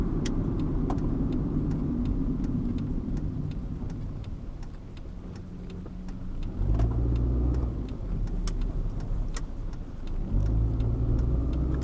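A car drives along a neighborhood road at about 40 mph, with a steady low engine drone and tire roar that swells twice as it picks up speed, close and continuous.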